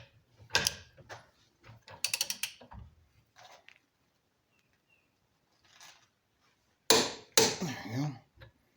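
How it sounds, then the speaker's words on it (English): A cordless impact wrench set to 150 foot-pounds torques a bolt down in loud hammering bursts: two short rattling runs early, a faint patch in the middle, then a longer, heavier burst near the end. "this thing is set to 150 foot-pounds. We'll go ahead and torque this bolt down"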